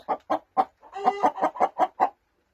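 A broody hen clucks in a rapid run of about nine short, close, throaty notes, with a brief squawk in the middle, then falls silent.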